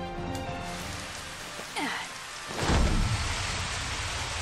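Steady rain falls in the video game Final Fantasy XV, a broad hiss of drops continuing throughout, with a swelling rumble like distant thunder rising partway and lingering under the downpour.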